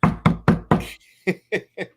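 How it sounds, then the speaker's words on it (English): Seven sharp knocks on a hotel room door, four rapid heavy raps followed by a short pause and three lighter ones, close and loud with no talking. "We are going to be knocking on that door like we're the cops."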